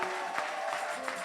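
Church congregation applauding together in acclaim, a steady, moderately distant wash of clapping with no talk.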